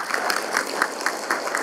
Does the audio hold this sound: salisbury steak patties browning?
no